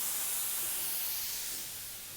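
A steady, bright sizzle hisses close up as chicken fries skin side down in a hot pan, fading slightly toward the end.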